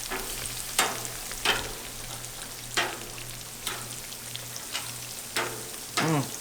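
Dove meat frying in a pan, a steady close sizzle with periodic louder crackling bursts as the pieces are stirred, no talk.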